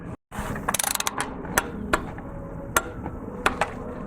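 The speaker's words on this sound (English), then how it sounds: "take the oil filter housing wrench, put that back on there, and then we can set it to final torque" Ratcheting clicks from an oil filter housing wrench tightening the filter housing to final torque on a Porsche 911 (997) during an oil change, with a quick burst of clicks followed by sparse, sharp single ratchet ticks, close and alone.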